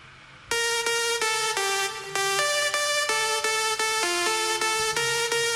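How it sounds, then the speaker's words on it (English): Magic Lead 1, a mono synth lead preset from the Cashmere Nexus pack for progressive house, plays a bright, buzzy melodic phrase of detuned notes stepping in pitch at a steady pulse, loud and alone. "Magic Lead 1, and it sounds like this. It's a very mono sound."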